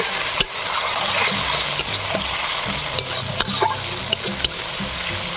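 Water hits a spice paste frying in a pan for an egg omelette curry and sets off a steady, close sizzle, with scattered stirring clicks and taps of a utensil against the pan.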